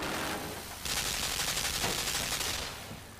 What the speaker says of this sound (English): my god, a machine gun